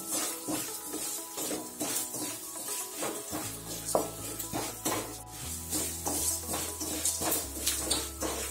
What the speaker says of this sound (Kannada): ಏಲಕ್ಕಿ, ಚಕ್ಕೆ ಲವಂಗ ಮುಗ್ಗು, ಕರಿಮೆಣಸು ಚೆನ್ನಾಗಿ ಇಟ್ಕೊಳ್ಬೇಕು. ಚೆನ್ನಾಗಿ ಫ್ರೈ ಆಗಬೇಕಿದು.